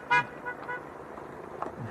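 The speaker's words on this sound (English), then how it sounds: "You're beeping a wave off the ops car." The airport ops car at Leeds Bradford Airport gives one short, loud horn toot from a little distance, followed by faint outdoor background noise.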